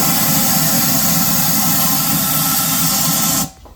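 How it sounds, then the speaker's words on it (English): Compressed air blasting into the engine intake of a 2015 Jeep Grand Cherokee 3.6L during an oil cooler replacement, a loud, steady close hiss that cuts off abruptly near the end. "we are going to use some compressed air just to blow inside there"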